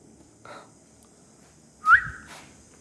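A person whistles inside a hotel room, a faint short note followed by a louder rising whistle and a brief tail, set against quiet room hiss with no talking.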